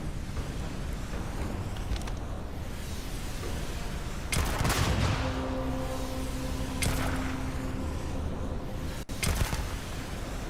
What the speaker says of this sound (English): I got someone shooting at me with what's like a full auto fucking rocket launcher